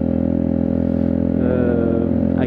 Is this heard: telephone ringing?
no